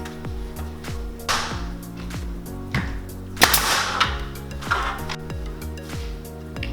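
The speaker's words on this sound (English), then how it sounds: "he's hitting the stud marks with the nail gun on the lines that he marked earlier" A nail gun fires nails into shiplap boards at the stud marks: a series of sharp, close snaps at irregular intervals, each with a brief ringing decay, some louder bursts bunched in the middle.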